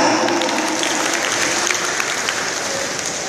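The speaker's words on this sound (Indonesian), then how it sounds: "tepuk tangan yang meriah untuk juara pertama kita" A crowd at an Indonesian televised prize-giving gives sustained, even applause for the first-place winner, dense clapping at a steady loudness throughout.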